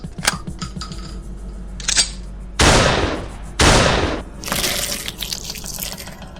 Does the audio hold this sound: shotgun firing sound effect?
yes